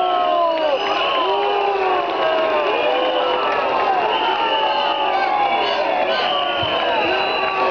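A political party rally crowd in Cernavoda cheers, whoops and shouts loudly and continuously, with applause mixed into the sustained roar.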